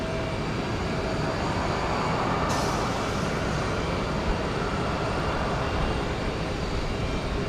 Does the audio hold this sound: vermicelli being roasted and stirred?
no